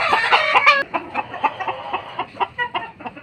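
Talisay hatch chickens cluck and crow close by in a burst of loud calls, then settle into a run of short, rhythmic clucks with no talking.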